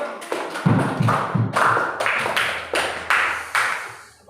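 A group in a school classroom claps in a series of sharp, separate hand slaps, about a dozen evenly spaced beats, loud and close, with some hollow thuds near the start.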